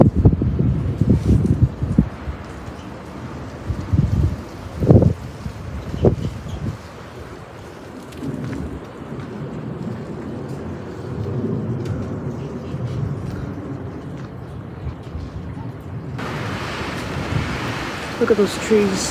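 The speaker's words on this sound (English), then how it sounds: "here comes the wind gusts" Strong 20-30 mph wind roars and buffets the microphone in strong, uneven gusts on a dry, high fire danger afternoon, with a voice speaking briefly over the rushing noise.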